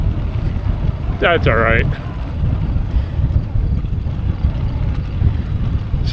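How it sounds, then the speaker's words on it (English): Strong headwind funneled between hills buffets the microphone of a cyclist riding uphill, a steady loud low roar throughout, with a short spoken phrase early on. "these hills are channeling the headwind kind of like a funnel"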